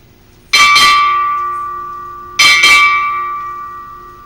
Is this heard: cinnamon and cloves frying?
no